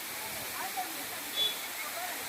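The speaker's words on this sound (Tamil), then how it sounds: "அவ்வளோ வேகமாக வந்து அந்த அருவி கொட்டுது" At Thirumoorthy hills, a waterfall pours down forcefully. It comes through as a steady, fairly faint hiss of falling water with a soft murmur of voices mixed in.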